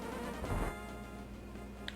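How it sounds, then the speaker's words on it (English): Insect-like buzzing of bees in the Zelda: A Link to the Past video game, a steady droning hum with a fuzzy swell early on and a short bright chime near the end, no voices. "Why is there so many bees?"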